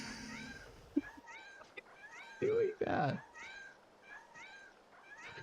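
Cats in a video game meow repeatedly in short rising calls, several voices overlapping at a steady rhythm, with a person briefly talking over them.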